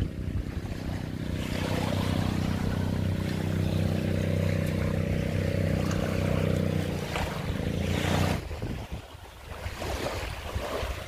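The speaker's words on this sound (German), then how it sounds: "Das sind viele Boote" Boat engines drone across the sea off Malapascua, Philippines, amid wind and crashing surf, the rumble steady before cutting off near the end, leaving wind and waves.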